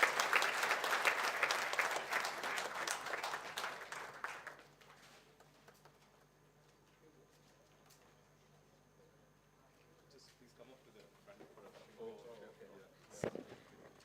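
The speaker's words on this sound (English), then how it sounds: "So please give a big round of applause to them." Audience applause for the ICSR team at an award ceremony, a dense burst of many hands clapping that fades out after about four seconds into quiet room murmur with faint voices.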